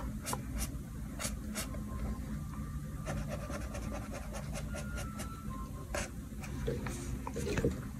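A pencil scratches and sketches on paper in short, repeated strokes, close and fairly quiet, with faint breathing in the background.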